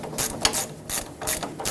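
A ratchet clicks in several quick bursts as it tightens the drag link mounting nut on a Ford F-350 steering linkage, close and loud with no talk.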